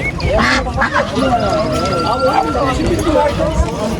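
Ducks quack at a busy flea market in Kayseri, Turkey, among roosters, quail and geese for sale, their quacks mixed with nearby voices and crowd chatter.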